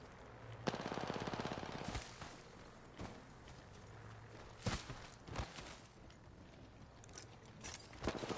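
Rapid automatic gunfire from the video game Apex Legends, a sustained burst of shots followed by scattered single cracks and short volleys, loud and close, with footsteps and game noise between.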